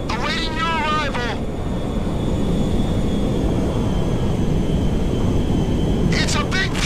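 A large cargo jet roars in the video game Grand Theft Auto 5, a loud steady engine drone with a faint high whine, joined by brief bursts of speech near the start and end.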